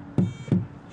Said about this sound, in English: So we hit the bus tire.